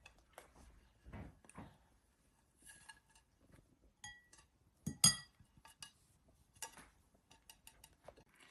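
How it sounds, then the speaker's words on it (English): A spoon stirs yogurt and other ingredients together in a bowl for shawarma, giving faint, scattered clinks and taps of utensil against the dish with quiet gaps between them. "I'm just adding the yogurt in a bowl, so I mix all the ingredients together"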